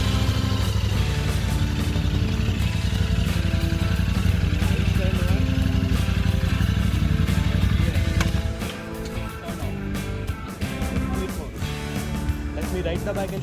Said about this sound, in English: Turn on the bike.